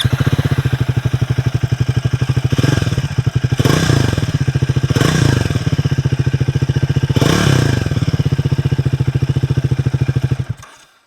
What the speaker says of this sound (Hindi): बड़ा सा कैटालिटिक कन्वर्टर के साथ आपको एग्जॉस्ट देखने को मिलते हैं। साउंड काफ़ी अच्छा है, मैं आपको सुना दूँ।